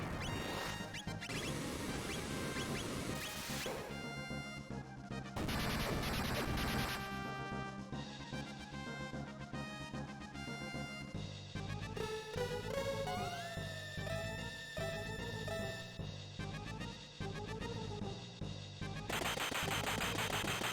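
Fire Tackle attack in the SNES role-playing game Chrono Trigger, with fiery crashing impact bursts rising over steady battle music, loud and dense, and no talking.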